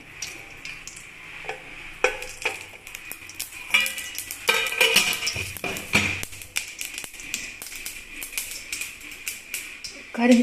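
Mustard seeds spluttering and popping in hot oil in a pan while cooking broad bean poriyal, a scatter of quick crackles and taps that thickens midway, with a voice speaking over it.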